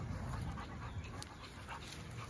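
A 7-month-old dog pants close by in quick, steady breaths, faint against a soft background hiss, with a few small whimpering sounds.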